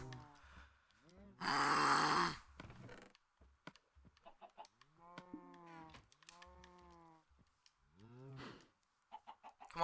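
Chickens in a Minecraft-style survival island game cluck in short bursts after a loud noisy swell, scattered calls close by with quiet gaps between them.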